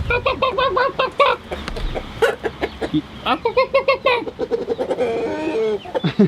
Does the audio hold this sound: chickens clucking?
yes